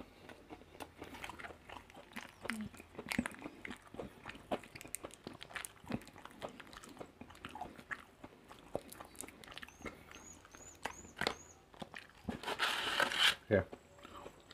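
Someone bites and chews a burger topped with chocolate sauce, with soft crunching and wet chewing close to the mic, plus some crinkling, amid talking.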